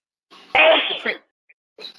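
A single sharp sneeze bursts out close by, a quick breathy intake followed by the explosive release, then silence and a faint voice.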